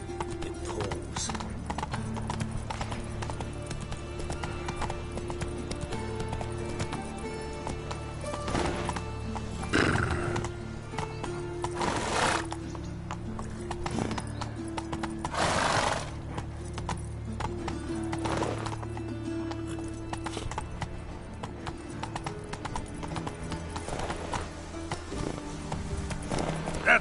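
A horse named in The Witcher 3 game clip-clops along at a steady gait and whinnies now and then, its hoofbeats continuous and fairly close under an ambient game soundscape.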